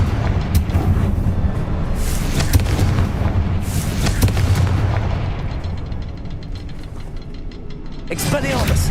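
A Confringo blasting spell explodes in Hogwarts Legacy amid continuous rumbling booms and crackling impacts, with a dense low roar throughout and a fresh burst near the end; a voice speaks over the blasts.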